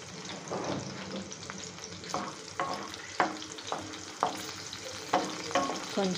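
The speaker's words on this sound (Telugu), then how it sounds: "కొంచెం అలా ఫ్రై చేసుకోండి." Small bits of garlic fry in oil, a soft sizzle broken by a regular series of stirring scrapes and taps against the pan, close and fairly quiet.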